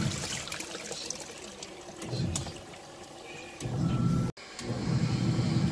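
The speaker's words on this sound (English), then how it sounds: "Okay, I'm adding a little bit more water." Water runs steadily into a Della portable twin tub washer, a continuous close rushing and trickling that swells louder partway through, with a brief break near the end and no speech.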